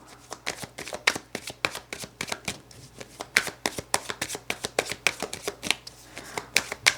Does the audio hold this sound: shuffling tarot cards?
yes